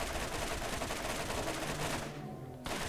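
Gunfire in the video game Borderlands as a rat is shot at wildly, a dense rattling burst of shots that stops briefly near the end and then resumes.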